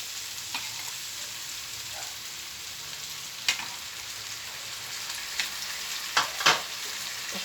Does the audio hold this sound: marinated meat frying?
yes